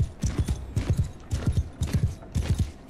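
Horse hooves in the video game Mount & Blade II: Bannerlord clip-clop in a steady trotting rhythm, close and clear, in repeated groups of hoofbeats.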